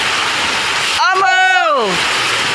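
Heavy rain pours in a steady, loud hiss that fills the whole stretch, with a voice briefly breaking through in the middle.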